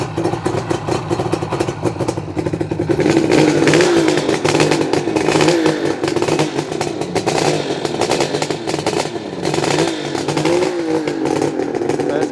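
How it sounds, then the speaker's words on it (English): A 1977 Suzuki GT550 three-cylinder two-stroke motorcycle, started cold, runs loud and close with a busy, raspy engine note and some throttle blips throughout. "So it's quite a loud bike with those High Speeds, very aggressive, a bit like a Banshee they call them."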